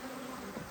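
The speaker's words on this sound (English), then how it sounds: "We got all the bees here working." Honey bees buzz at an open hive on a hot summer day, a faint, dense, continuous droning hum from many insects close by, with no voices.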